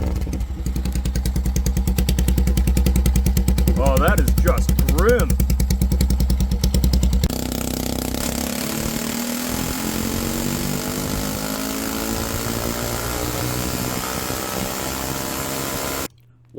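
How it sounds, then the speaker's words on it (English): A pitbike engine with its original straight pipe exhaust roars loud and close at full power, a steady harsh drone that drops into a rougher, lower running note midway and then cuts out; a voice speaks briefly over it. "We will begin by decibel testing the original straight pipe exhaust at max power."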